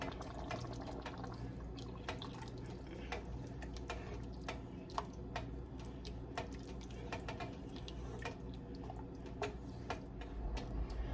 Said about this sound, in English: what I want to do is add 2 cups of my beef broth